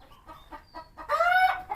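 Country hens on a farm give a quick run of short clucks, then a louder drawn-out squawk up close, with no talk.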